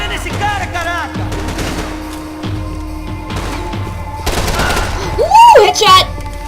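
Gunfire in a Max Payne 3 firefight, a series of sharp rhythmic shots and thuds mixed with shouting voices and talk, growing busier and louder toward the end.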